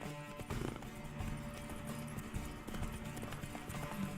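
Roach, Geralt's horse in The Witcher 3, gallops with steady rapid hoofbeats over continuous game music and ambience, close and loud throughout, with a faint whinny.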